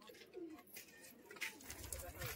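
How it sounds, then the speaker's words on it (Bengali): A stud pigeon of a short-beaked Giribaz breed coos softly at a bird market, faint low murmuring calls mixed with other birds and people talking nearby. "নেক্সট স্টাডি পায়রা দেখুন"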